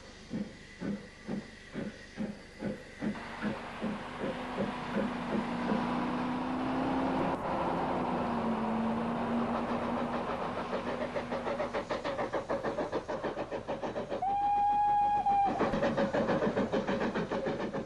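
Steam train on the Kent and East Sussex Railway climbing Tenterden Bank, with regular heavy exhaust chuffs at first giving way to a continuous hiss and rumble, a whistle blast sounding near the end.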